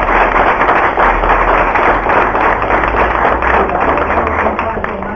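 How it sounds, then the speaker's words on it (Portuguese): An audience claps together in a lecture hall after a talk about the Holocaust and genocide. The applause is loud, dense and sustained for about five seconds, with no voices heard over it. "eu gostaria de que a gente retribuísse a visita do Sr. Júlio Garcia com uma salva de palmas"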